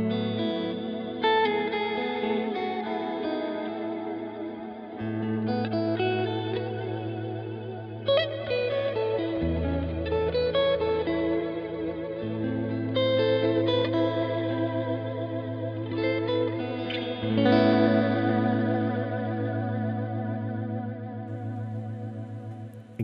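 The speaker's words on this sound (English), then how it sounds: "Now for the Reverb 2, which is a longer reverb with kind of a underwater vibrato." Electric guitar is played through the T2 pedal's Reverb 2 setting, a long reverb with a watery vibrato, in sustained chords and arpeggios that blur and shimmer together at steady volume.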